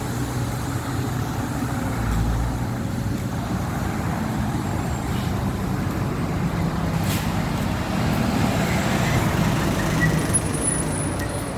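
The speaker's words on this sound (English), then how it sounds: "You can hear the street cleaner." A street cleaner vehicle rumbles along with passing city traffic, a dense continuous low engine roar and road noise filling the scene with a brief brake hiss, steady and fairly loud throughout.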